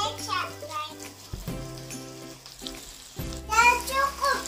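Fried rice made with leftover vegetable scraps is stirred in a frying pan, with a steady sizzle and scraping under a voice and other background chatter.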